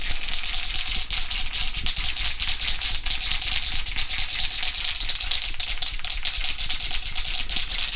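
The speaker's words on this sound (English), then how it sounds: "Give it a good shake for a couple of minutes just to make sure that it's all nicely" A Hampshire Sheen clear gloss spray lacquer can shaken hard, its mixing ball producing a steady, dense rattle that runs close and loud throughout without pause.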